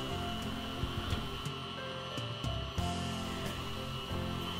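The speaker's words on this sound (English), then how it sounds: "I added in a teaspoon of vanilla, and now I'm just letting the mixer do its thing." An electric mixer beats divinity candy with vanilla added, a steady mechanical whir with faint rhythmic knocks throughout, fairly quiet and close, with no talking.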